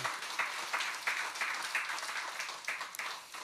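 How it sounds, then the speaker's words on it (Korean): Church congregation applauding after a choir hymn at a Sunday worship service, a steady wash of many hands clapping at moderate distance, continuous throughout. "우리 경외 박수하겠습니다"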